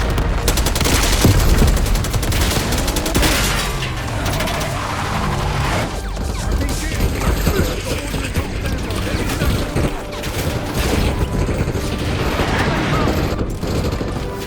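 Dense gunfire from a Call of Duty Black Ops 6 campaign battle, with rapid automatic bursts, booming impacts and scattered shots layered over battle noise, loud and continuous, with voices calling out now and then.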